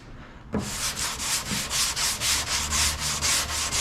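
Hand block sanding of car body filler with 120 grit paper during panel repair on an HX Holden one-tonner, a steady rhythmic rasp of back-and-forth strokes, close and loud, starting after a brief quiet moment.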